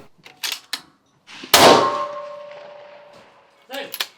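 A sharp rifle crack followed by a ringing metallic clang from a hit steel target that hangs and slowly fades, with short bursts of nearby voices before and after, at a shooting competition.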